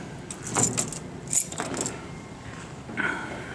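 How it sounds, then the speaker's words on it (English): A bunch of metal keys on a ring jangles in a few short bright shakes, quiet and close, with soft handling noise between bursts and no talking. "got a bunch of keys on here."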